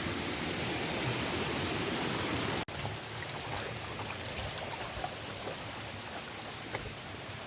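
Kuntroo waterfall in Odisha pours in a steady, loud broadband rush of falling water, close by and continuous, with a brief dropout partway through and no talking.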